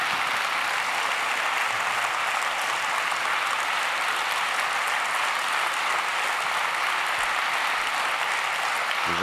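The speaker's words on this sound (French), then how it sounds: "Les gens sont debout pour vous applaudir." A standing audience gives a health minister a steady, dense ovation, continuous applause holding at an even level throughout with no talk over it.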